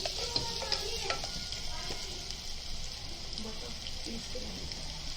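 Spinach and mustard greens for sarson ka saag sizzle and fry in a hot pan, a steady crackling hiss with occasional clinks of a spoon stirring against the metal.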